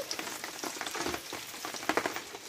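Torn bay leaf and asafoetida crackle in hot oil with a soft, steady sizzle, broken by faint pops and small bursts of spattering. Light rain may be falling nearby.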